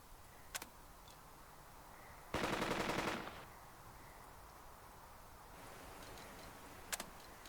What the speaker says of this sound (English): All because of that one machine gun.